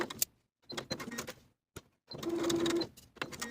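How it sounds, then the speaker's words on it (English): Sewing machine basting along the top edge of pleated shirt fabric, short close bursts of stitching broken by pauses, with small mechanical clicks and handling between runs. "Now I've formed a pleat in the fabric, and I'm going to baste along the top edge."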